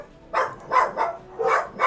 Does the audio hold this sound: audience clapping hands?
no